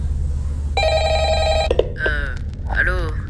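A telephone rings in a horror-game style setting of Five Nights at Freddy's recreated in real life, with one long electronic ring burst followed by shorter chirping tones, loud and close over a low background hum.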